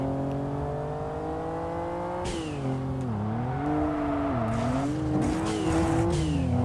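Race car in the video game Kaido Racer, fitted with shortened gear ratios, revving hard with a loud, close engine whine that climbs through the gears, dips on shifts and climbs again, with brief tire squeal near the end.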